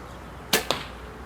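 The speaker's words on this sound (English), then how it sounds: "So here's a heavy arrow out of it, and you'll see how much difference it makes" An Elite Tempo compound bow looses a heavy hunting arrow: a sharp release snap followed a split second later by a second crisp thwack, two close, loud transients over a quiet background.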